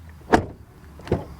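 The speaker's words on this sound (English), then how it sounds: "Then the door closing sound test." Two solid thuds as a VW Passat door is swung shut, each a short, dull slam close by, the first stronger than the second, with a quiet pause between them.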